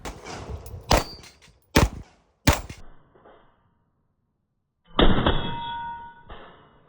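Three sharp gunshots from a rifle fitted with a Trijicon optic ring out at a shooting match, spaced about a second apart, each with a short decaying tail, followed by a louder burst of clattering noise after a quiet pause.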